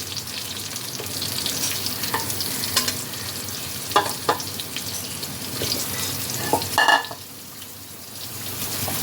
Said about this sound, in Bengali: এবার আমি এর মধ্যে দিয়ে দিচ্ছি লাউ